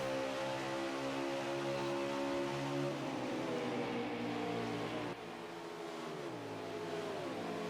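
Dirt track race car engines rev hard and loud throughout, a pack of cars battling at a Friday night thunder cup race, pitch shifting as drivers accelerate and ease off, with a steady roar and no talk.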